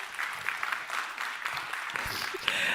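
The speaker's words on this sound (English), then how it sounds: "Thanks for the applause" Audience applause at a conference, a steady, dense patter of many hands clapping, continuous and fairly close for a few seconds.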